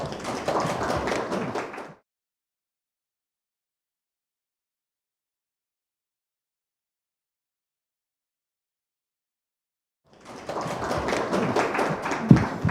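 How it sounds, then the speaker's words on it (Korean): Audience applause at a legislative forum on revising the military service basic law, two bursts of dense clapping separated by a long silence, the second ending with a louder thump. "이쪽에서 박수가 많이 나오는 것 같은데"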